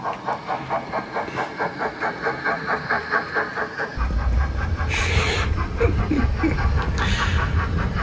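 An OO gauge model steam locomotive with DCC sound, a Hornby 28xx or 8F, runs through a model railway station. A steady rhythmic chuff gives way to a louder, denser running rumble with bursts of steam hiss, close and continuous.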